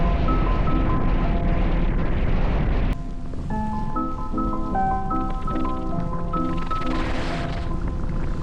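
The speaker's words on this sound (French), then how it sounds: "Moi qui pensais arriver avant la pluie, bah c'est bien loupé en tout cas." Steady rain patters and hisses throughout during a bicycle tour across Europe, loud and close, with tonal music-like notes layered over it in the second half.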